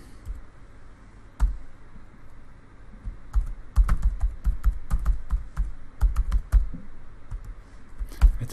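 Irregular bursts of key clicks from a computer keyboard as a temporary password is typed in at a client login portal, close and clear with short pauses between clusters of keystrokes, no voices.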